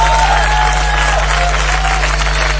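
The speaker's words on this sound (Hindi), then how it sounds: "तालियां बजाइए।" An audience applauds at a televised bridal reality show, producing a steady wash of clapping over a loud low hum, with faint tonal sounds above it.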